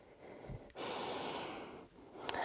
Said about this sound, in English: Take a full inhale and a full exhale.